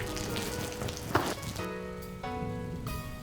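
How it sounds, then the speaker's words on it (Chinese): Artificial rain from a film crew's sprinkler truck falls steadily, a dense hiss of drops on surfaces close by, with a tonal hum joining partway through. "下雨了"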